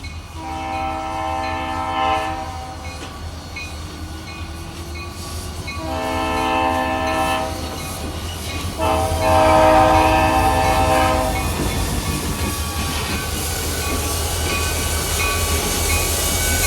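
Pan Am and NBS Railroads diesel locomotives, rated at 3,000 horsepower each, roll past while their horns blast in several long chord bursts over rumbling wheels and clatter, loud and close.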